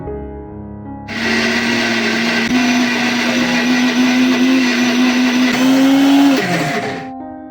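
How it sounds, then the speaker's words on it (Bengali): A kitchen mixer grinder is switched on and grinds soaked lentils. It runs as a loud, steady whirring roar for about six seconds, its pitch rising slightly near the end, then winds down. No one speaks over it. "সুইচটা দিতেই একদম মিক্সিটা চালু হয়ে গেছে, মানে মিক্সির সুইচটা অনই ছিল"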